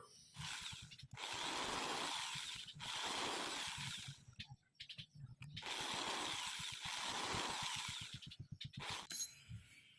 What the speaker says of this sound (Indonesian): lalu kita bor titik-titik yang telah kita buat, kita bor